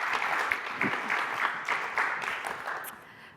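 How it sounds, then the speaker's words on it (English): An audience applauds at a talk session, a dense round of clapping that sounds moderately near and fades off over about three seconds. "Let's give them a round of applause, Elijah and Sophia."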